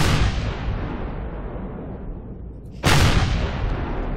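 Heavy gunfire from a weapon fired at an enemy in the space survival game Empyrion: a loud, dense, sustained roar of shots that eases slightly, then erupts again in a sharp new burst.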